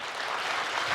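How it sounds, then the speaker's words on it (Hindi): Dense, steady clapping from an audience at a Hindi poetry gathering (kavi sammelan) in Kotadi Charbhuja fills the whole brief moment, loud and continuous with no voices over it. "तो थोड़ी जोरदार ताली बजाओ फिर।"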